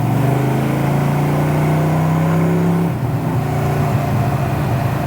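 A 1972 Chevrolet Nova muscle car with traction bars, driven in first and second gear on a wet road, makes a loud, steady engine drone whose pitch climbs slowly and then drops at a shift, heard close and alone.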